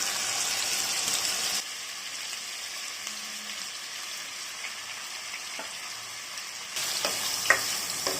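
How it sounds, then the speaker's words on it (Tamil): Marinated chicken pieces fry in butter in a pan with a steady hiss, loud at first, dropping lower for a stretch, then rising again with a few light clinks of a utensil near the end. "இப்போ இது ஜென்டலாக அப்படியே நம்ம ஃப்ரை பண்ணிக்கலாம்."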